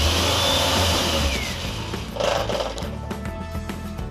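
Bissell Powerforce Compact vacuum cleaner making an odd noise, its motor whirring loudly up close with a shifting pitch and a rough, uneven drone.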